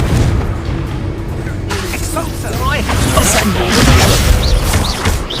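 A Confringo blasting spell in the Hogwarts Legacy video game sets off a booming burst amid combat noise. A voice talks over it.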